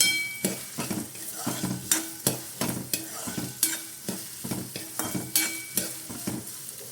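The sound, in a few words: sliced onions frying in hot oil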